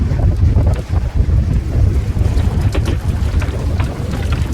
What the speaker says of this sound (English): I hope that's just the wind around the end of this island.